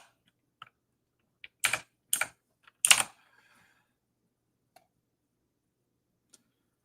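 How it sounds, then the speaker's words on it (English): Computer keyboard with haptics being typed on, a few quiet clustered clicks in quick bursts, then a couple of isolated faint taps in a quiet room. "someone said they like the sound of your keyboard"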